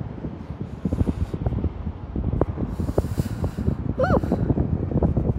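Chilly wind buffeting a microphone outdoors at sunrise, gusty rumble throughout with a brief whoop of a voice partway through.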